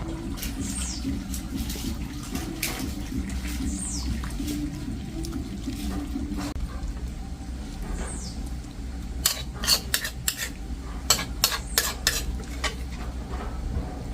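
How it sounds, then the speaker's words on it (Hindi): Metal utensils scrape and clink against pots as cooked food is scooped out and transferred into another pot, with a sharper burst of clattering near the end. "अब इसको मैं दूसरा बर्तन में निकालूंगा।"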